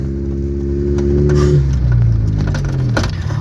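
A car engine hums close by and rises in pitch as it accelerates, then shifts gear and keeps pulling, with a steady interior rumble.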